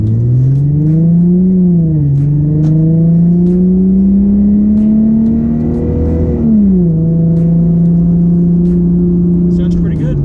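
The engine of a 2005 Chrysler Crossfire Limited with an automatic transmission revs loud and close, its hum rising and falling in steady swells over ten seconds.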